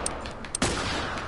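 Gunfire in The Last of Us, a burst of rapid game shots cracking close and loud, with a heavier blast near the end, with no talking.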